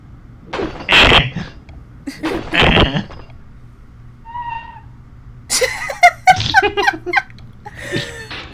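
A door creaking open in the PS1 game Silent Hill, a short thin squeak around the middle, heard alone between bursts of talk and laughter.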